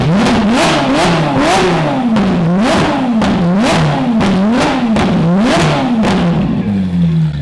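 A modified Ferrari engine is revved hard again and again at close range, roughly ten quick throttle blips in steady rhythm, each surging and dropping back, before easing down toward idle at the end.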